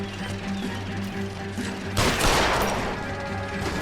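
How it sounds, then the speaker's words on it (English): Gunfire in the video game L.A. Noire: after a stretch of low game ambience, a loud burst of shots breaks in midway, followed by a dense, noisy crackle of continued firing with no talk. "Shooting him just slows him down a bit"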